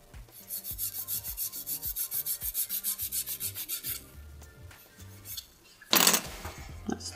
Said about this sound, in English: let's get the metal file to come right in there because it's so thin